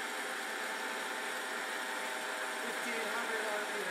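A Vectrax 14x40 geared head bench lathe runs at high speed, giving a steady, even mechanical whir and hiss that holds constant throughout without pauses.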